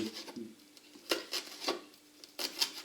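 A knife chopping herbs for a red cabbage salad with apple, walnuts and lardons makes a few scattered, soft taps and scraping strokes on a cutting board, close and quiet, with no voices.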